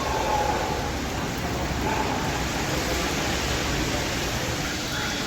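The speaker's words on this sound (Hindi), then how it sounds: "तेज हवाओं के साथ बारिश का सिलसिला जारी है" Heavy rain driven by strong winds over Noida in the Delhi NCR, a dense, constant loud hiss of rainfall with no breaks throughout.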